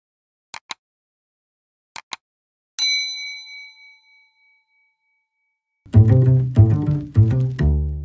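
A notification bell sound effect: two pairs of short clicks, then a single bright ding that rings out and decays, followed by a loud cluster of clanging chime strikes, all clean and isolated.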